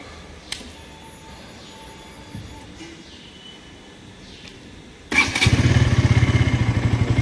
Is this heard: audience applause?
no